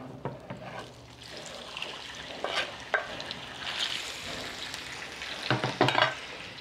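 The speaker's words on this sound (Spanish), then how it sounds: "ya que está el aceite, ya le voy a poner la carne" Meat sizzling in hot oil in a home kitchen pan, a steady close crackle and hiss with occasional stirring scrapes and sputters, no talk.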